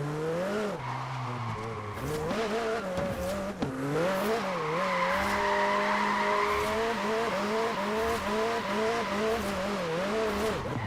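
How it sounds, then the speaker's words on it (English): Engine exhaust in Forza Horizon 4 revs and drones in shifting pitch with tire squeal and skidding, loud and continuous throughout, a voice faintly under the engine noise. "Now the exhaust on this thing sounds really well."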